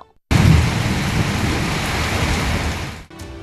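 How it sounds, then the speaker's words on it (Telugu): Heavy thunderstorm with dense, steady rainfall pouring down and a low rumble of thunder beneath it, loud and continuous for about three seconds before cutting off abruptly. "ఉరుములతో కూడిన మెరుపులు, చెవులకు చిల్లుపడే శబ్దాలతో పిడుగులు"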